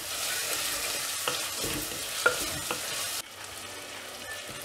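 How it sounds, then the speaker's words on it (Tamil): Tomatoes with ginger and garlic sizzle steadily in a mud pot while being stirred, with a few soft scrapes, and the frying eases off near the end. "தக்காளி ஆட் பண்ணிவிட்டு இதை நல்லா வதக்கி விடலாம்."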